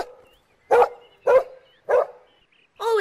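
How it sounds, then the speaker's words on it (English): A dog barks four times in a steady, evenly spaced rhythm, each bark sharp and close, with quiet gaps between and no talk. "Then Timmy barked."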